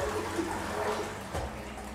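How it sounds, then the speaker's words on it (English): A German toilet flushing, a short muffled wash of running water heard from a distance, fairly faint and settling within a couple of seconds. "But with German toilets, when you flush it"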